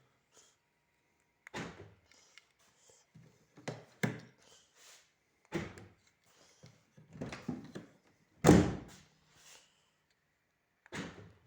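A Daewoo Lanos central door lock works several times, each cycle giving short sharp mechanical clunks and clicks spread across a quiet stretch.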